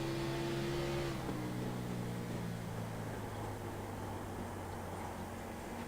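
Race car engine in the iRacing sim, a Grand National Series car lapping Iowa at high RPM, a steady loud droning tone with strong harmonics that shifts pitch slightly around one second and then holds without shifting.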